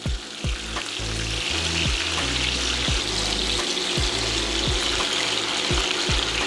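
Chicken pieces browning in a hot pan for smothered chicken, giving a steady, loud sizzle close up, with regular low thumps and knocks under it and no voices.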